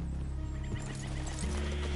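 A horse in the video game Red Dead Redemption 2 gives a loud, close whinny with hooves clip-clopping beneath it, and no speech is heard.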